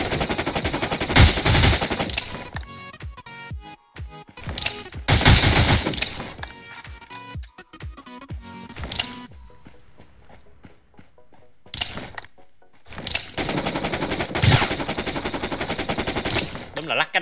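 Bursts of automatic machine gun fire in the battle royale shooter Rules of Survival, loud rapid volleys repeating with short gaps and a brief quiet stretch, with occasional footsteps and someone talking between bursts.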